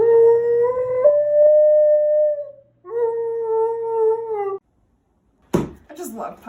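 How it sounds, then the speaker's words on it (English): A puppy howls in long, steady, clear tones, one sustained howl then a second after a brief pause, loud and close, ending with a short burst of noise. "I just love puppies."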